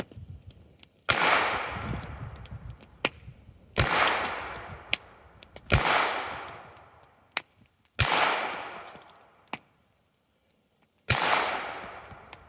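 Five sharp gunshots from a Heritage Rough Rider .22 caliber revolver with an eight-inch barrel, fired outdoors with loud cracks spaced a few seconds apart, each trailing off in a ringing echo.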